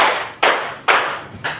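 Pupils in a classroom clapping game clap in unison, three loud, ringing group claps in a steady rhythm about half a second apart, each trailing off into room echo, with no voices.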